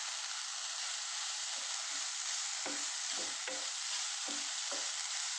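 Chembu stem thoran with grated coconut is stirred in a pan: soft, low sizzling runs throughout, broken by a series of quick scraping stirs, close by and fairly quiet.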